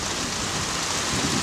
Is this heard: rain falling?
yes